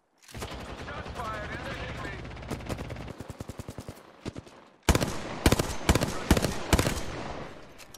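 Gunfire in Apex Legends: a close, loud automatic burst, then a brief pause before a second volley of sharp shots with uneven spacing, with talk mixed in.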